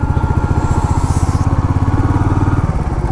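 A motorcycle engine running on a foggy mountain road in Munnar, a loud close throbbing pulse in a fast even rhythm that holds steady throughout.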